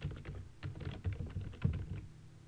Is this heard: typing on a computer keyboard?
yes